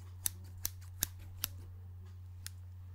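Scissors snipping close to a Blue Yeti microphone, five crisp separate cuts, four in quick steady succession and one after a pause, over a low steady hum.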